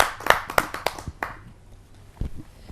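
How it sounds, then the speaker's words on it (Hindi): A handful of separate, sharp handclaps ring out in an uneven rhythm at a Hindi poetry gathering (kavi sammelan) as a poet is welcomed, close and sparse, thinning out after the first second. "आइए उनका स्वागत करते हैं आप सबकी जोरदार तालियों से।"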